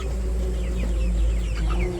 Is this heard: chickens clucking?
yes